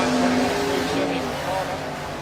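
Supercharged drag race cars at the Mildura Easter supercharged shootout, launching down the strip: a loud, sustained engine roar with a falling pitch as they pull away, commentary heard over it.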